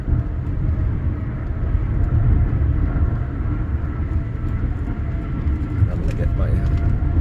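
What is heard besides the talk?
car driving through Las Vegas airport runway tunnel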